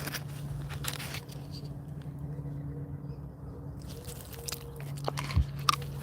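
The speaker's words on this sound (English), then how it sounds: "You gonna chew it up? You gonna eat it this time?" A dog chews a chewy treat outdoors, giving soft, irregular gnawing and crunching sounds with a few sharper clicks toward the end, over a steady low background hum.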